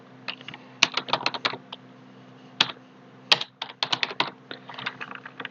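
Typing the Layer command on a computer keyboard, close, crisp keystrokes arriving in quick clusters separated by short pauses, with nothing else heard.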